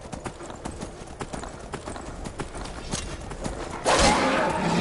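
Horse hooves clip-clop in a steady walking rhythm in the Skyrim VR video game, loud and close, then a broader rushing noise swells near the end.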